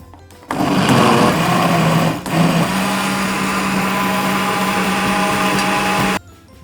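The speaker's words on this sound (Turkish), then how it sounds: "Yapmanız gereken çok basit bütün malzemeleri blenderda güzelce karıştırmak." A blender mixing pumpkin dessert ingredients whirs loudly and continuously after a brief start, its motor holding a steady high-pitched drone before cutting off abruptly.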